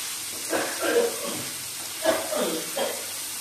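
Carrot, potato and green chili with salt being stir-fried in a pan give a steady hiss, with a few louder sizzling bursts and stirring scrapes rising over it.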